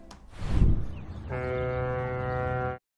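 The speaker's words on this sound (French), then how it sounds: "on perçoit donc une corne de brume de bateau" A deep, steady ship foghorn blast sounds for over a second after a brief rumble, then cuts off abruptly.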